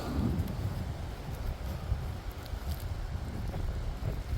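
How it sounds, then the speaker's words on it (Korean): Strong wind gusts outdoors on a hillside where a pine tree is being transplanted, roaring and buffeting the microphone in a continuous, close rumble with no speech. "아 바람 많이 부네요."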